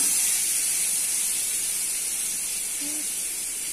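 Steady hissing sizzle of paneer frying in hot oil in a kadai, continuous and fairly loud throughout with no voices.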